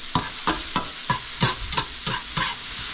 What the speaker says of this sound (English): we got onions and carrots sauteing up.